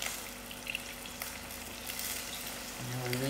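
Onions frying in a pan for dhal pitta make a soft, steady sizzle with light crackle. It sounds faint and close, with a brief louder spatter near the end and no talking.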